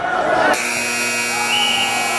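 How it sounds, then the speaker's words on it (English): A loud, steady electronic buzzer at a high school wrestling meet cuts in abruptly and drones on with a flat, unwavering tone after a brief burst of crowd noise. "The buzzer beat him."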